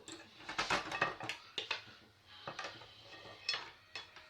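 A connected frying pan is handled and knocked about, giving a scatter of sharp metallic clanks and clinks in irregular bursts, close and fairly quiet, with brief gaps between the knocks.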